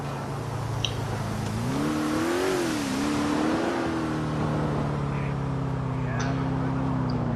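A car engine revs and accelerates loudly as it speeds around a corner on a road, a steady close drone rising and falling in pitch for several seconds.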